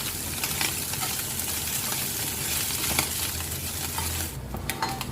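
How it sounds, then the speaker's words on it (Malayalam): Fish frying in a steel pan gives a steady, dense sizzle with faint utensil stirring. It drops off sharply near the end, leaving a softer crackle, and no one speaks. "ഫിഷ് ഫ്രൈ റെഡി ആയിട്ടുണ്ട്"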